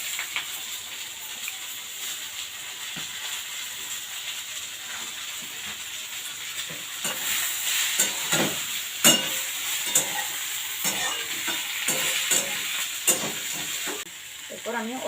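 Boiled greens fry and sizzle in a pan after tempering, with a steady hiss and intermittent stirring scrapes growing busier midway, close and alone without talk.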